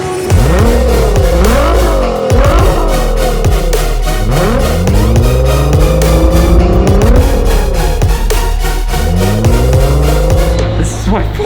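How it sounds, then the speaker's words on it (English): A 2019 Nissan GT-R engine revs loudly and repeatedly, pitch rising and falling in surges as the car drives close by, with brief tire noise in between and no speech. "This is my 2019 Nissan GTR."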